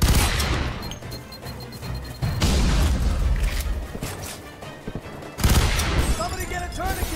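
Combat in the video game F.E.A.R. 3 with bursts of gunfire, a booming grenade blast and clanking mechanisms, loud and dense with a sharp cut partway through and voices shouting amid the action.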